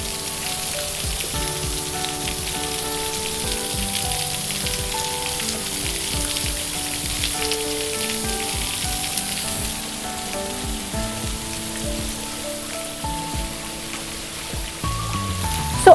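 A waterfall at a resort in Karjat, next to a rain-dance area and infinity pool, makes a steady, dense hiss of falling and splashing water that stays close and loud throughout, with no talking.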